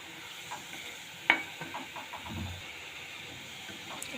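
Potato pitha frying in oil produce a soft, steady sizzle with a sharper clink or pop early on and faint stirring scrapes, fairly quiet overall with no talking.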